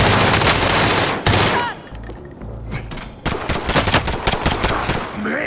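Dense gunfire in Call of Duty: Modern Warfare, with loud, rapid automatic bursts and shots filling most of the stretch, a brief lull in the middle, and game sounds underneath.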